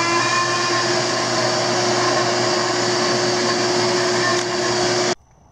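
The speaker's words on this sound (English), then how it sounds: "we're going to get ready to turn on the vacuum" Shop vacuum running loud and steady while cleaning up CNC-cut knobs, a constant droning whine for about five seconds before it abruptly shuts off into near silence.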